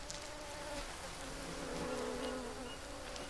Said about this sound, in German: ich höre irgendwelche Bienen oder so ein Scheiß